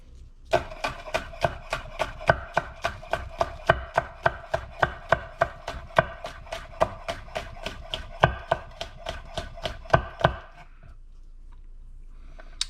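A knife chops scallions on a cutting board in a quick, even run of about thirty crisp knocks, close and clear, then stops; no one speaks.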